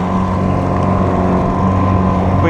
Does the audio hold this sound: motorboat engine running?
yes